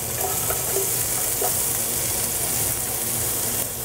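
Onions sizzle and fry steadily in a hot pan with garlic, a continuous close crackling hiss that stays loud and even throughout, with no talking.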